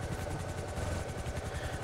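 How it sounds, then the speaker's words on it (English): A helicopter flies in the video game GTA V, its rotor beating in a fast, steady thump over a constant low engine roar at moderate volume, with no talking. "here we are in our helicopter, and I'm flying one-handed"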